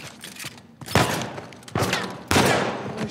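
Gunfire from the video game Uncharted 4: three loud, separate bursts of shots spaced about a second apart, each trailing off, with no talk over them.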